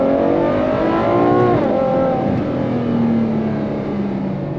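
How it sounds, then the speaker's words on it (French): A new Ferrari F12 TDF with its front-mounted V12 revs loudly while driving on an open road, the engine note rising, dipping with a shift, then droning steadily, close and continuous throughout. "c'est Ferrari V12 à l'avant"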